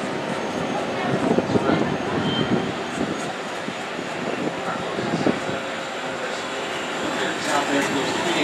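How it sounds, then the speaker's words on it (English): Brand-new electric studio tour tram at Universal Studios Hollywood rolling along fairly quietly, a steady low hum and rumble with faint knocks and scattered background noise. "now let's compare it to the brand new electric trams"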